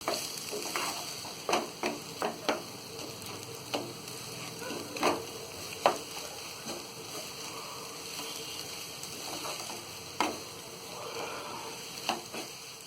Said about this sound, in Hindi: कटा हुआ हरा धनिया भी डाल देंगे और इसे भी हम अच्छी तरह मिक्स कर लेंगे।